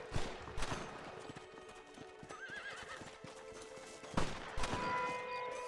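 Gunfire rings out in a Red Dead Redemption western scene, sharp shots breaking over galloping horse hooves and whinnies, with a louder burst near the end.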